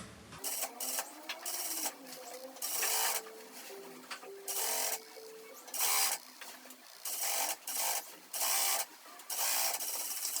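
A sewing machine stitches a zipper onto a quilted child's jacket in short bursts of rapid mechanical whirring, separated by brief pauses and handling noises, close and moderately loud with no speech.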